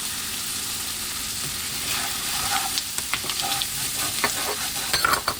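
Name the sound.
stirring sticky green beans in a hot pan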